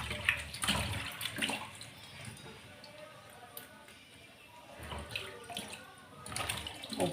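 Koduva fish being washed by hand with running water in a kitchen, splashing and trickling in uneven bursts, louder at the start and end with a quieter stretch between.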